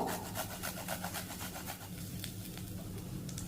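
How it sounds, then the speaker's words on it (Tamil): Rapid rhythmic rasping and scraping as ginger is grated into a pan, repeating steadily for a few seconds with no talking. "இப்போ இஞ்சி கொஞ்சம் இதில் துருவி போட்டுக்குருவோம்"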